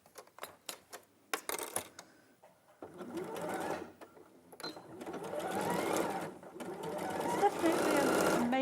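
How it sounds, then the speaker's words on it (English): A sewing machine stitches the side seam of a top, its motor starting in short bursts and then running in long continuous stretches, close and fairly loud, with a voice speaking over parts of it. "So I'm now going to sew the side seam together."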